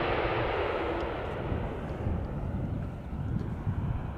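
A Delta Airbus A330 lands at Schiphol Airport without thrust reversers: a loud, steady broadband jet roar with wind buffeting on the microphone that swells slightly toward the end. No one speaks.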